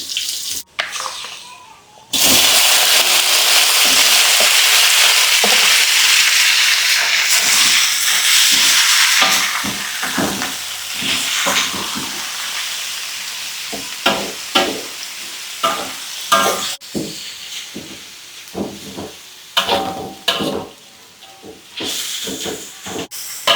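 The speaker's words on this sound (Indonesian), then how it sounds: "Sekarang kita tumis kodok." Frog hits hot garlic oil with a sudden loud sizzle that hisses steadily for several seconds, then fades into intermittent crackling and the clatter of stir-frying utensils in the pan.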